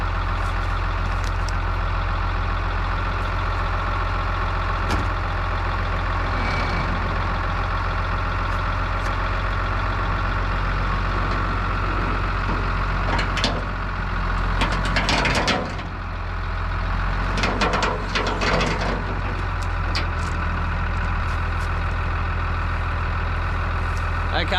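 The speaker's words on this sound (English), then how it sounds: "I'm just going to drive forward slowly and see if the rock will come out" A vehicle engine idles and drones steadily as it drives slowly forward, using a chain to pull a rock out of the ground near cattle yards, with a few rattling clanks partway through.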